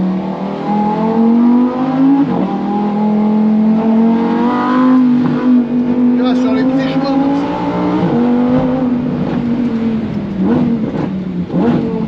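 A Lamborghini engine pulls and revs along narrow country lanes, its loud continuous drone rising and falling with throttle changes, close and steady throughout, while someone talks over it.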